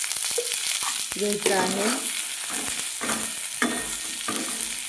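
Something frying in a little hot oil in a home kitchen, with a steady sizzle behind intermittent stirring scrapes and clacks, while someone speaks over it.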